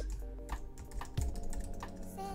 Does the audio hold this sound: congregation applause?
no